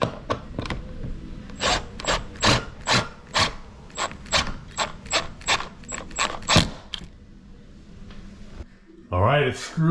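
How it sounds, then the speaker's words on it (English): A window screwed into its frame through the sides during a bathroom renovation: a drill or driver whirs in repeated short bursts with a squeaky, grinding bite as each screw seats, close up, then a brief voice at the end. "screw it into place through the sides of the window into the frame"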